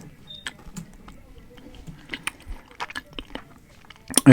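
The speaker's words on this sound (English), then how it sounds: "There's a bit of a crunch sometimes." Crunchy Mexican snacks are bitten and chewed up close, with a scatter of crisp cracks and crunches over soft mouth sounds and a louder crunch at the end.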